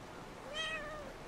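A cat in Brothers: A Tale of Two Sons gives one short, rising-and-falling meow, faint and alone against a quiet game background.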